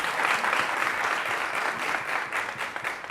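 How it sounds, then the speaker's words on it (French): A studio audience on a game show claps for a contestant, a steady wash of dense applause at moderate loudness lasting a few seconds without a break. "d'applaudir pour le défenseur Prévias"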